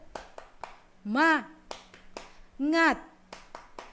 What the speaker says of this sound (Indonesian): Ayo sama-sama kita tepuk. Tepuk semangat.